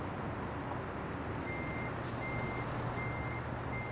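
A truck idles close by in Euro Truck Simulator 2, a steady low engine rumble with a faint repeating reversing beep beginning partway through, no talk over it.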